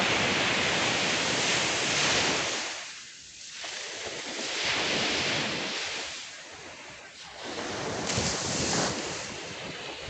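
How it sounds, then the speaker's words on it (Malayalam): Gentle, calm sea waves wash onto Arthunkal Beach in Alappuzha, Kerala, in slow, rolling swells, each rising and fading over a few seconds, with steady breezy hiss throughout. "കടൽ വലിയ റഷൊന്നല്ല, ശാന്തമായിട്ടുള്ള കടലാണ്."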